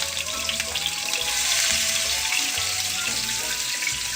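Tomatoes sizzling in a frying pan, a constant loud hiss with a faint tonal hum underneath and no voices.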